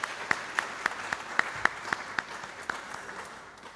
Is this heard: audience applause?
yes